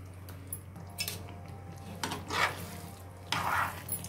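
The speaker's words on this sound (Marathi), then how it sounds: "आता आपण ह्याच्यात कोलंबी ॲड करणार आहोत तळलेली" Fried prawns being stirred into chilli gravy in a pan: quiet, intermittent scrapes and clinks of a spoon against the pan come in short bursts over a low background hum, with no voices.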